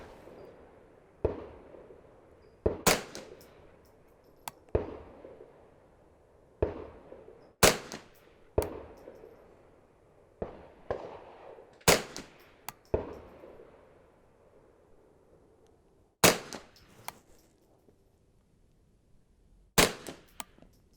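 Brownells 10/22 Takedown rifle firing high velocity .22 rounds at an outdoor range, about a dozen sharp loud cracks at irregular intervals, each with a short echoing tail, alongside softer distant shots from other shooters.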